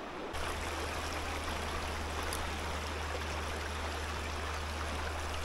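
A small trout creek flows nearby with a steady, even rushing babble, alone and unbroken, under a low constant hum.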